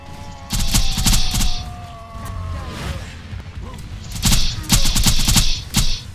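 Automatic gunfire in Borderlands 2, loud rapid bursts at the start and again in several bursts toward the end, with players talking excitedly between and over the shots.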